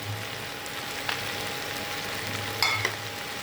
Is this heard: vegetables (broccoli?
yes